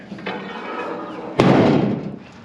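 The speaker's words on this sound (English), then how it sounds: "Close the door." A single loud, sharp slam of a door shutting near at hand, with a broad burst that fades slowly, over a quiet background of room noise.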